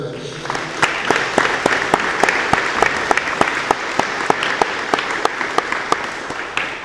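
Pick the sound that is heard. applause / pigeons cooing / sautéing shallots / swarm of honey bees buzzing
applause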